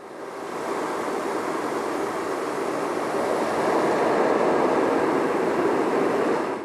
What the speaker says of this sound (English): It just has a really nice, rich, rushing air sound